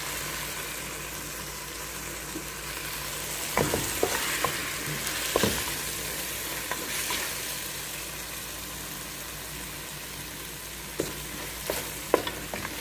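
Whole onion and black lemon frying in a pan of hot oil for a potato and eggplant dish, a steady close sizzle that runs throughout, broken by a few scraping stirs and clinks.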